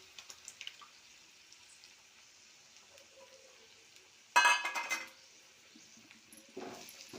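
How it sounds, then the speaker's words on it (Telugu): Eggs frying with onions in a hot pan give a steady, soft sizzle, then a louder burst of stirring and scraping about two-thirds through, followed by quieter sizzling with a little clatter near the end. "గుడ్ని బాగా ఫ్రై చేసుకోవాలి 5 నిమిషాలు"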